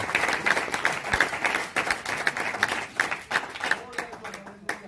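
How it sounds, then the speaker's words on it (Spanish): Church congregation applauding during an evangelist's sermon, a dense, steady wash of many hands clapping close by, with a preacher's voice speaking over it. "¿Será que usted le puede aplaudir a Dios todavía?"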